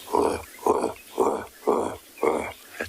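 A voice imitates a male leopard's sawing call, a series of five rhythmic, rasping grunts evenly spaced like a bow saw drawn through a wooden plank, close and fairly loud.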